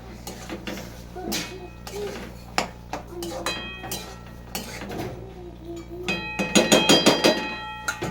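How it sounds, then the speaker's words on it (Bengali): Boiled chickpeas being stir-fried in spice paste, a metal spoon repeatedly scraping and clinking against the pan in irregular strokes, getting busier toward the end, with a voice talking over it. "ছোলাগুলোতে একটু কষাবো"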